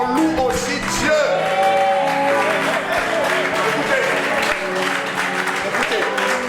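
Congregation clapping in a church during worship, steady dense applause filling the space with cheering voices and singing-like tones mixed in throughout.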